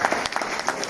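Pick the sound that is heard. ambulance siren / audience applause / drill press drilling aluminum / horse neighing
audience applause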